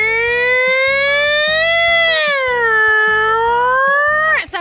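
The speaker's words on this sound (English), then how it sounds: "here's where the siren is so people know that a fire truck is on the way." A toy fire truck siren at an indoor playground wails in a loud, rising and falling electronic tone over a pulsing beeping pattern, cutting off abruptly at the end.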